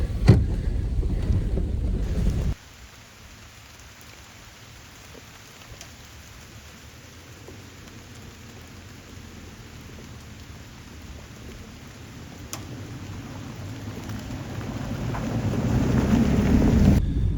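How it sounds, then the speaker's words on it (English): Heavy rain pours with low thunder rumbling on an off-road overlanding trail in Oklahoma's Ouachita Mountains. A loud opening drops suddenly to a muffled, steady downpour that gradually swells louder toward the end. "I think this is one of the first times I've actually had it pour down rain leaving a trail"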